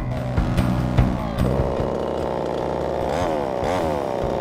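A chainsaw buzzes loudly up close, revving and bogging as it bites into very hard, dense wood, its pitch rising and falling in strained surges.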